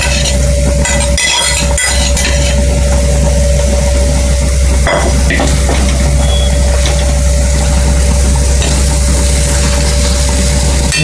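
An egg goes into tomato thokku frying in hot oil, giving a loud, steady sizzle and crackle that runs the whole time with a few scraping stirs and no talking.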